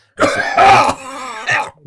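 A person coughs and clears their throat loudly up close, in a few harsh, rasping bursts over about two seconds.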